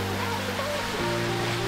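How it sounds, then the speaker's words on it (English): A waterfall roars as a steady broadband rush at Dhanush waterfall along the Agumbe Ghat road, loud and continuous, with faint voices and a low hum mixed in. "Waterfall. Dhanush waterfall."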